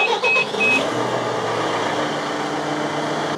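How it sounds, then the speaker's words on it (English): A K4/K5 mobile screening machine's engine runs at a steady idle with a low mechanical hum and a constant whine, a brief chirp near the start as it fires up, loud and continuous throughout. "So we'll start the machine."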